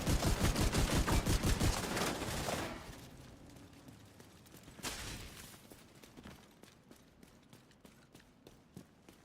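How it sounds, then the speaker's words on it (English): Rapid automatic gunfire in The Division 2 video game rattles loud and close as shots hit a wall. After a long burst it trails off, leaving a lighter run of scattered shots and footstep-like taps. "Shoot the wall."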